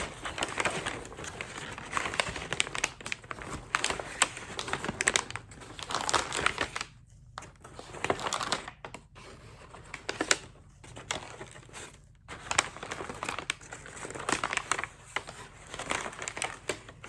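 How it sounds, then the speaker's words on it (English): Packaging paper crinkled and crushed while being pulled out of a press box, with close, dense crackling bursts separated by a few brief silent gaps. "Two pieces of packaging paper."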